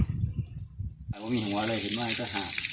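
A tap is turned on and water gushes strongly into a basin or bucket while produce such as sweet potatoes is washed, preceded by a second of handling clatter and faint background sound.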